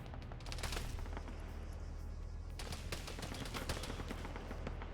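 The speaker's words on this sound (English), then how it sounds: "now you're seeing the 50 cals firing up here" .50 cal machine guns fire in a video game battle, a steady dense rattle of distant automatic bursts over a constant low rumble with no voices.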